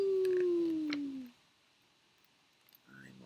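A person's voice imitates a wolf howl, one long falling note that trails off, followed by a brief quiet moment before talking resumes softly.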